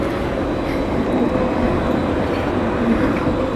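A modern city tram in Santa Cruz de Tenerife on an evening street, a steady loud rumbling roll that fills the whole stretch without clear breaks.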